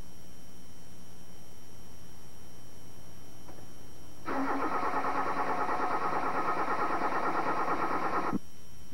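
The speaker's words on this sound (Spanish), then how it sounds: "arrancamos el motor" A car engine cranks steadily without catching while its ignition signal connector is unplugged, a loud continuous starter whir lasting about four seconds after a quiet stretch, then stopping abruptly.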